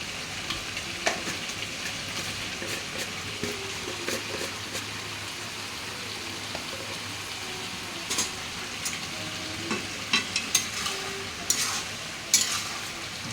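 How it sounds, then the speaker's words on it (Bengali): Food frying in a pan with salt just added is stirred and turned, a steady close sizzle broken by irregular scrapes and clinks of the utensil against the pan, growing busier toward the end, with no talking. "নাড়াচাড়া করে নেওয়া হচ্ছে।"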